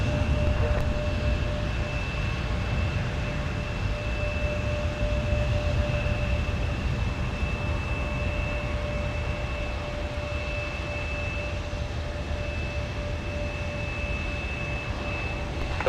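A Delta airliner arriving from Las Vegas at Minneapolis–St. Paul airport on an overcast winter day makes a steady, fairly loud jet roar with a faint high whine, continuous throughout, with no talking.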